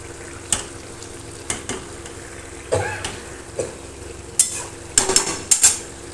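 Bottle gourd and shrimp curry is stirred in a pan, with a spatula scraping and knocking in scattered strokes over a steady low sizzle. The strokes grow busier and sharper toward the end, and no one speaks.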